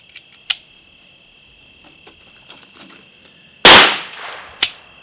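Shots from an MP5 loaded with 115 grain full metal jacket rounds from a KCI Gen 2 magazine: a sharp crack, a few faint ticks, then a louder blast and another crisp shot, all over a steady high whine.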